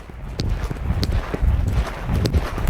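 Hooves of a five-year-old paint gelding clip-clop steadily at a walk, a rhythmic series of soft thuds close by with no talk over them.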